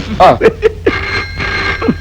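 A telephone in an old Telugu feature film rings with a steady electronic tone under and between loud voices talking close by.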